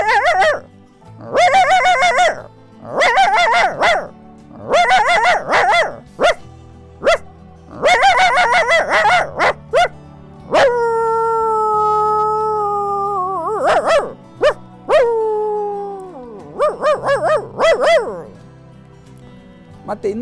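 A voice imitates a big dog barking at strangers: bursts of loud, deep barks in quick groups, then a long drawn-out howl and a few more barks, close and alone.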